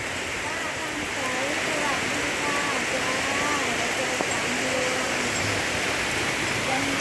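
Heavy rain pours down on a mountainside market of canvas-covered stalls below Doi Phu Luang, a steady, dense hiss that continues unbroken throughout, with a faint voice now and then underneath.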